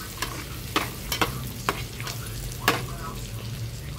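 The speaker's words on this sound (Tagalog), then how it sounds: "Pagisa po natin." Onions being sautéed in a pan for tokwa't baboy, with a steady sizzle under several sharp scraping clicks of a utensil stirring against the pan, close and moderately loud.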